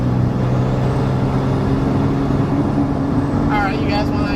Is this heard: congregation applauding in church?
no